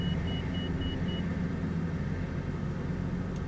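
In MS Flight Simulator 2024, a master alarm beeps in short repeating tones over the steady loud drone and rumble of an aircraft engine, with no voices.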